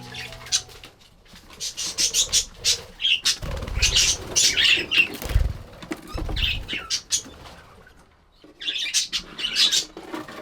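Budgies in an aviary with newly hatched chicks, chirping and chattering in busy bursts with brief wing flutters, a dense flock close by, easing into a short lull before the calls resume.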